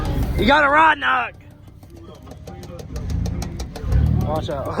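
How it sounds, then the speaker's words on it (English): A truck engine with a rod knock idles close by, giving off a quick, regular metallic tapping under the running engine, after someone speaks briefly at the start. "You got a rod knock."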